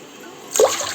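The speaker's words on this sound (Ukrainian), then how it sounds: "три таких мірки наливаємо води" Water splashes and trickles into a pot over pearl barley, a short burst of pouring over a steady background hiss.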